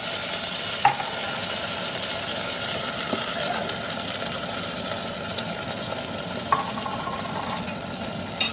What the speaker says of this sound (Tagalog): Lagyan na natin itong ating sardinas.